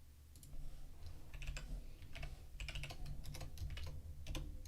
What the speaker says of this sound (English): I'm just typing these out right now.